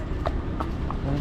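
Hooves of a horse clip-clop on a ride in Ooty, a few short, fairly faint knocks in quick succession against a steady background rumble.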